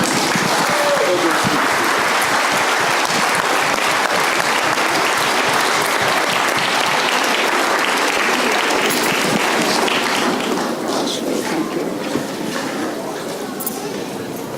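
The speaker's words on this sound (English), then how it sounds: "So please give them a round of applause." A large crowd claps loudly and continuously, a dense wash of applause that slowly thins toward the end.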